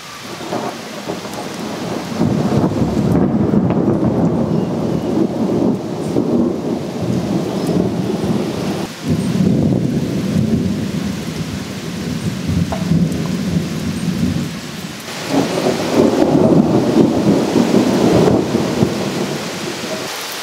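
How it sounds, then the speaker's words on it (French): Steady heavy rain pours down in Paris with deep rolling thunder rumbling through it, loud and close, swelling again near the end. "C'est de la pluie, c'est de la pluie"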